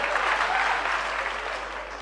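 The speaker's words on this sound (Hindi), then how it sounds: "आप जैसी तालियां बजा रहे हैं" Audience clapping at an all-India mushaira poetry gathering in Bhiwandi, a steady dense wash of many hands applauding that holds for the full stretch and eases slightly toward the end.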